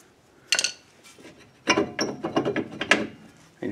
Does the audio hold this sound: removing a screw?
yes